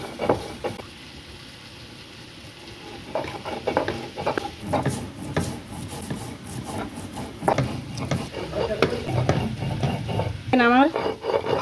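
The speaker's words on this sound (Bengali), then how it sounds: "পোস্ত বাটা হয়ে গিয়েছে।" Poppy seeds ground by hand on a flat grinding stone, giving a rough, repeated scraping and rubbing at close range with irregular strokes, plus a brief rising squeak near the end.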